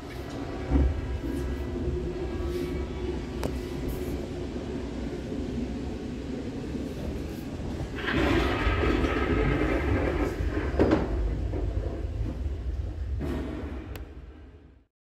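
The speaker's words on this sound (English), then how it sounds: "There's your train." A train rumbles past nearby, a steady low roar that swells and then cuts off, with no voices.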